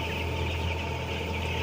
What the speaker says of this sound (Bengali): এটা ব্রয়লার মুরগি